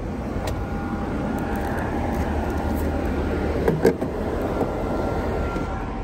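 A Tesla electric car pulls away from a supercharger station with a steady low hum and road rumble, a brief clunk partway through, and no talking.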